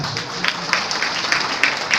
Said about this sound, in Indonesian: Beri tepuk tangan untuk Pak Hendra